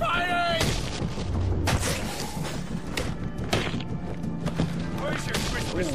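Gunfire in the video game Batman: Arkham Origins, heavy booming shots and rapid bursts of fire, loud and dense throughout, with game voices shouting over the barrage.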